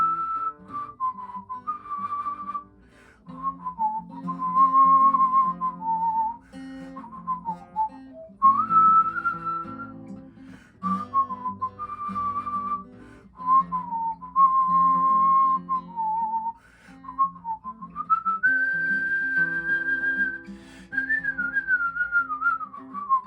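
Someone whistles the solo from a song, a clear, fairly close melody of held and sliding notes in phrases with short breaths between them and no talking.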